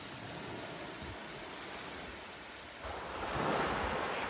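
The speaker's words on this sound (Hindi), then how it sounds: "शांत होके हम समुद्र की आवाज सुनते हैं।" Sea waves break and wash onto a private beach at Mandavi, a steady surf roar with wind rumbling against the microphone that swells louder toward the end.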